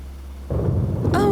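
Cartoon thunder rumbles low and close for about a second before rain, rising into a louder crackling roll near the end, with no talk over it.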